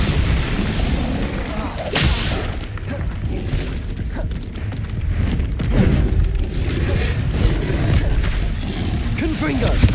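Heavy booming blasts and crashing impacts from the Bombarda blasting spell in Hogwarts Legacy, continuous and loud, with a strong hit near the start and dense rumbling debris throughout.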